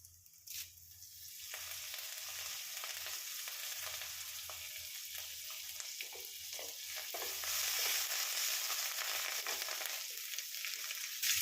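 Continuous close sizzle of curry leaves frying in oil, with spitting crackles and intermittent stirring scrapes, growing slightly louder toward the end, no voices.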